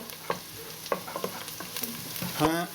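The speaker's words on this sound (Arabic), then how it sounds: "أول ما البصل يبدأ خلاص يبقى سخن قوي كده وخلاص بدأ يتحمر" Onions browning in a very hot pan for coconut-milk chicken curry: a continuous close sizzle broken by repeated scraping stirs and a louder clattering burst near the end.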